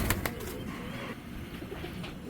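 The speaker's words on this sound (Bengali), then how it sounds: "কবুতর দুইটা একদম ফুল অ্যাক্টিভ" A pair of racer pigeons coos softly in a loft, low murmuring calls repeating close by over faint background rustle, without any talk.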